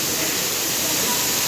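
Waterfall at Wroclaw zoo, heard as a steady, close, broadband rush of falling water with no break across the short stretch.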